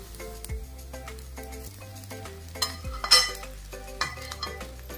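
Cooked fish pieces mixed into a spiced pan mixture, spatula scrapes and clinks against the pan over a soft sizzle, close up with no voices.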